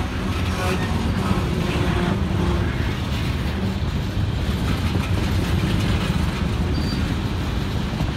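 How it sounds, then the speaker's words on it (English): Loaded coal train cars roll down grade on the RJ Corman West Virginia line, producing a loud, continuous rumbling roar with a constant metallic grind and faint wheel squeal, close and unbroken throughout. "it really illustrates the noise these cars make going down grade"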